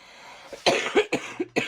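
A short burst of several harsh coughs in quick succession, close and fairly loud.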